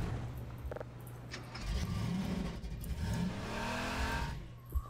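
A car engine revs in the video game Half-Life 2. It climbs and falls in pitch through several surges, with a brief squeal near the end and no talk over it.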